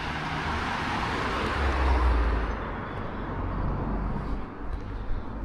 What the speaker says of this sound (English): the traffic suddenly got busy